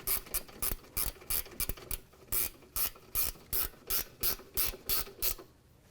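A hand ratchet clicks in rapid bursts while snugging rear brake caliper bolts with a 14 mm socket on a 2010–2015 Lexus RX350, about a dozen sharp, close strokes in a steady rhythm with no talking.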